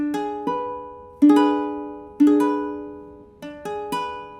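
A diminished chord for ear-training comparison, sounded as single piano-like notes stacking up and sustaining, repeated in three groups that each decay slowly, alone without speech.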